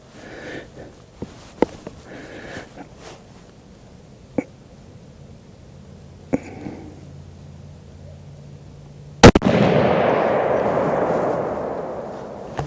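A Browning A-bolt Medallion rifle fitted with a muzzle brake fires one loud, sharp shot outdoors at a Pennsylvania deer camp. Its blast rolls into a long, fading boom. Several faint clicks and handling noises come before the shot.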